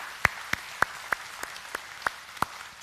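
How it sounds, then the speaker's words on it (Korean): A church congregation at a Sunday morning service claps in slow, sparse, separate claps, about eight in under three seconds, fairly faint against a quiet room. "우리 하나님께 영광의 박수 올리겠습니다"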